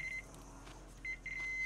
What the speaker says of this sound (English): I can hear some beeping still.